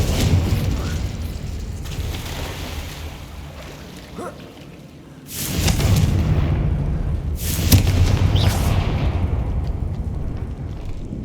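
Confringo fire-spell explosions in Hogwarts Legacy on Xbox Series X erupt as two heavy, booming bursts a couple of seconds apart, over a continuous low rumbling battle din.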